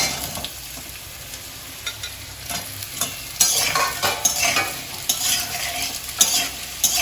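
Cut potatoes fry in hot oil in a kadai, a continuous close sizzle with frequent clinking, scraping stirs from a spatula that come in bursts and grow busier over time.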